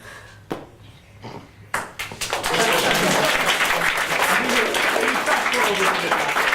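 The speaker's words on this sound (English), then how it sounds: "Keep clapping!" At a student comedy society sketch show, a few scattered claps grow into full, dense audience applause that carries on steadily.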